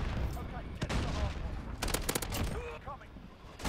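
Rapid bursts of automatic gunfire in Call of Duty: Modern Warfare, dense and loud with overlapping shots, while a player talks over the action.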